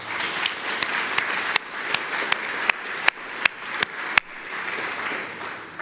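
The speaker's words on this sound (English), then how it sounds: "Let's give them a round of applause." Festival audience applauding for VIP supporters ahead of a closing keynote, dense sustained clapping from a large crowd with several loud individual claps punctuating the wash throughout.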